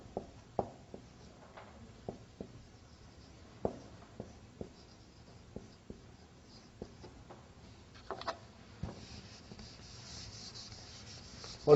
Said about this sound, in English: Now I am writing here.